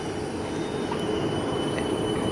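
A South Western Railway train rolls past at a station near Richmond, giving a steady, loud rumble of wheels on rail with faint squeals, continuous throughout and with no voices.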